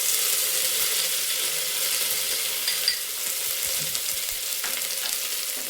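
Grated coconut, raisins, cashews and almonds sauté in a pan for sweet coconut rice, giving a steady, even sizzle with faint stirring scrapes and a few light knocks.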